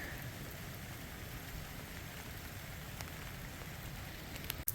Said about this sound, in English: Still raining on us, and we're still climbing up this rock face.